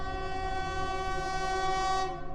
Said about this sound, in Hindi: मुझे ट्रेन के हॉर्न 2 बार सुनाई दिया